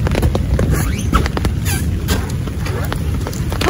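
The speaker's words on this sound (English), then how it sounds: "it started to rain. Pretty bad now." Rain falls steadily outdoors on a summer day in New York, a dense close patter that is mixed with gusts of wind noise hitting the microphone.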